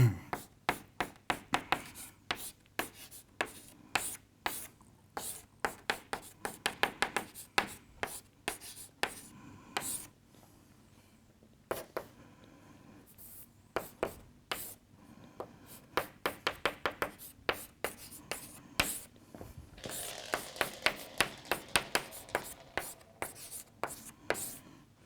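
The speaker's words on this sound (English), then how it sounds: "And I will write this part like this" Chalk or marker taps and scrapes out equations on a board in quick irregular bursts of short strokes, close and crisp, continuing throughout with quiet pauses between clusters.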